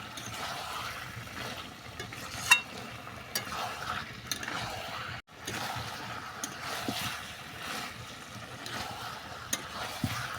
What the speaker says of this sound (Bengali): চিকেন মশলাটা ভালো করে মিশিয়ে নিচ্ছি